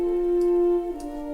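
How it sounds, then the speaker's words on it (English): A sustained horn melody line from a lush Broadway-style orchestration closes an intro, held steady and then stepping to a new pitch over soft orchestral backing, with no voices. "I had the horn at the very end of the intro"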